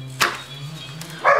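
A small dog gives two short, sharp yips, about a second apart, close by in an otherwise quiet indoor space.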